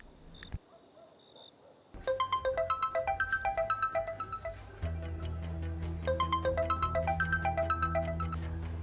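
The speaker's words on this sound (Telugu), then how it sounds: "అరే నువ్వు ముందు రెడ్ అన్నకు కాల్ చేయి" A phone ringing for an outgoing call in a Telugu film scene, a short beep followed by a bright, repeating melodic ringtone pattern that continues steadily, close and clear, with a low background layer joining partway and no speech.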